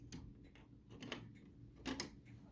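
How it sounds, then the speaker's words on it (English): Faint, steady ticking from clocks in the background near a chain-driven triple-chime grandfather clock, soft repeating clicks amid low room noise with a few louder mechanical knocks. "You can also hear some other clocks ticking in the background"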